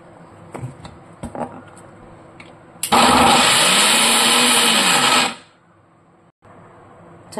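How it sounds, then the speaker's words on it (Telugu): A kitchen mixer grinder pulverises half a kilo of garlic into a fine paste, whirring loud and close for a couple of seconds before winding down, with quiet kitchen clatter before and after. "అవన్నీ కూడా మిక్సీ వేసుకుందాము."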